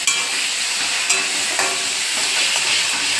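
Panch phoron spices crackle and sizzle in hot oil, a loud, dense, steady frying hiss with small pops scattered through, heard up close with no talking.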